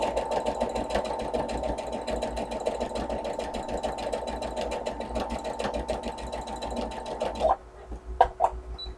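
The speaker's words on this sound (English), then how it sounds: "I lower my needle position down, making sure that I press that just right, finger press that in, and sew that 1/4 of an inch" A sewing machine stitches a quarter-inch seam in a fast, continuous mechanical whir with rapid needle clicks, then stops and leaves a few faint clicks and handling sounds.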